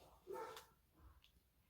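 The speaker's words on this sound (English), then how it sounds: "I'm not sure what those dogs are barking about." Dogs barking in the distance: a single short, faint bark, then a couple of tiny yips in an otherwise quiet room.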